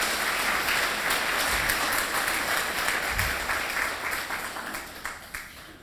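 A church congregation applauding during a sermon, sustained, dense clapping with a constant hum beneath, loud and even at first, then tapering with a few sharper scattered claps near the close.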